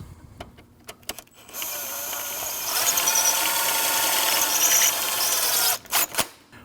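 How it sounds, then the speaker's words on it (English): Ratcheting and tightening on the belt tension bolt of a 2003-2008 Subaru Forester 2.5L, with a few sharp clicks, then a sustained high grinding squeal lasting several seconds before cutting out into a couple of brief clicks. "Tighten your tension bolt."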